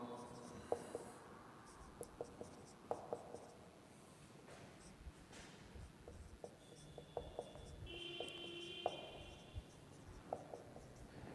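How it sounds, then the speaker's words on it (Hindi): Handwriting of a maths problem during a BODMAS simplification lesson, heard as soft scratchy pen strokes with light taps, close and faint, under a quiet, slightly noisy room. "जैसे मैं एक क्वेश्चन लिखता हूँ"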